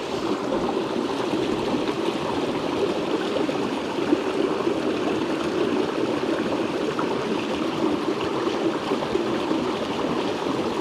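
Stream water pours steadily into a gallon container beside a forest creek in the Pacific Northwest, a continuous close rushing and trickling wash with no pauses.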